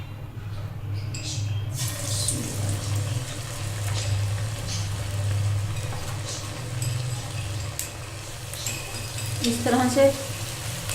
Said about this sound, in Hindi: अब हम चाहे तो चम्मच से इसमें हम पकोड़े डाल सकते हैं।